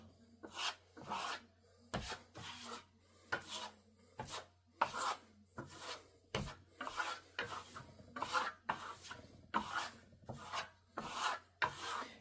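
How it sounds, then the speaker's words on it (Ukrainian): A trowel scrapes and rasps in short repeated strokes while applying a third coat of decorative marble plaster, a steady rhythm of close, gritty rubbing passes with brief pauses between them and no voices. "І наносимо третій шар. Наносимо так, як і другий, більш короткими мазками."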